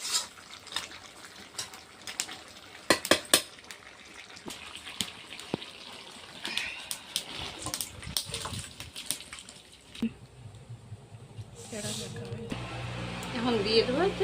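Chicken and bamboo shoot curry is stirred in a pan, giving close, irregular scraping, clinking and wet sloshing sounds with a few sharp knocks, followed by a brief hissing, bubbling stretch near the end.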